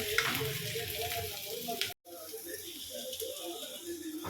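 Eggs and tomatoes fry in a pan with a steady close sizzle, briefly cut by a short silence partway through, then resuming at a similar level.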